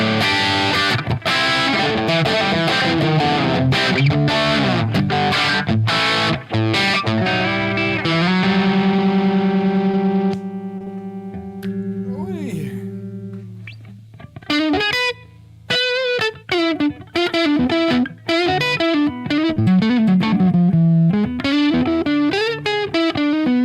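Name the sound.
Gibson-style electric guitar through distortion effects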